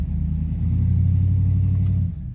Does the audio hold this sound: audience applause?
no